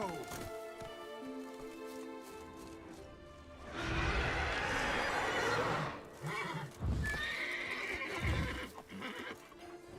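Roach, a horse in The Witcher 3: Wild Hunt, whinnies loudly and then gallops with heavy hoofbeats, thuds and a crash amid game music, while someone talks over part of it.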